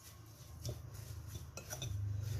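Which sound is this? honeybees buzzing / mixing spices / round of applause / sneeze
mixing spices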